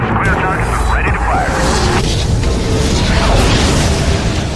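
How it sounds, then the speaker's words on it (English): An artillery strike destroys a military base in the Prototype video game, giving continuous loud explosive rumbling and booms under radio chatter and narration. "Here we're going to destroy a base, which is one of the objectives of this mission, by using the artillery strike ability of the commander."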